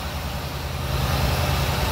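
A Chevrolet V8 engine with headers, in a 1960 Studebaker Lark convertible, idles nearby with a deep, steady burbling rumble that grows slightly louder partway through.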